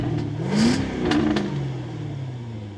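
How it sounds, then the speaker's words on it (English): A Jaguar F-Type R75 V8 engine with stock exhaust revs up and down several times, a deep throaty roar with sharp crackles, close and loud. "let you hear how this V8 sounds stock"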